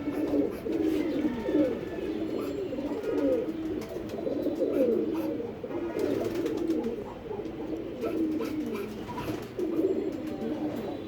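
A steady chorus of pigeons cooing close by, overlapping low throaty coos running without a break for the whole stretch.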